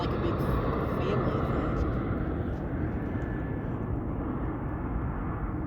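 An airplane roars past during evening planespotting at an airfield, a loud, broad engine rumble that holds steady for several seconds, with people talking over it.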